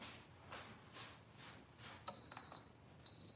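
An Instant Pot beeps when ready, sounding two loud, shrill electronic tones about a second apart after a stretch of soft rhythmic background noise.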